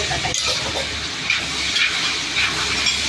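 Ivy gourd thoran fries in a pan, giving a loud, steady hissing sizzle with faint irregular crackles throughout and no voices.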